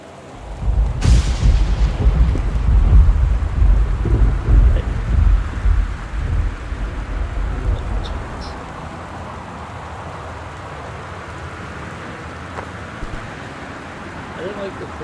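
Thunder rumbles in a stormy scene in the video game Gone Home, a loud, rolling low boom that swells over several seconds and then fades into a steady, quieter background of rain.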